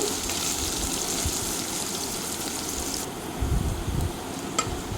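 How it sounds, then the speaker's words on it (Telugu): Onions frying to golden brown for egg pulao hiss with a steady, even sizzle throughout, with a few louder stirring scrapes and a sharp tap toward the end. "ఉల్లిపాయలు బాగా వేయించుకోవాలి ఆనియన్ని గోల్డెన్ బ్రౌన్ కలర్ వచ్చే వరకు వేయించుకోవాలి"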